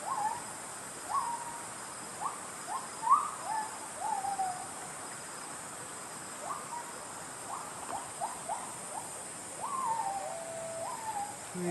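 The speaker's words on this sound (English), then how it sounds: "I've just heard a guide walking by saying it was the sound of a gibbon." Repeated gibbon whoops ring out through the Khao Sok jungle, a string of short rising hoots in loose bursts, moderately distant over a constant insect drone.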